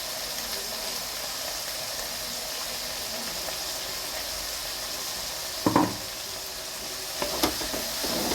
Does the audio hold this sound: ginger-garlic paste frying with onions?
yes